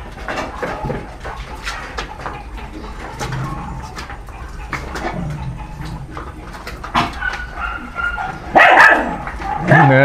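Several puppies bark and yip in quick, irregular bursts, close and fairly loud, with birds and a pigeon-like cooing mixed in around them.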